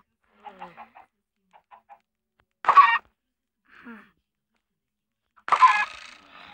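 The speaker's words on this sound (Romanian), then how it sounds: "Și aici găinile." Short bursts of clucking and squawking Minecraft chickens come and go against silence, a couple of sharper, louder cackles standing out.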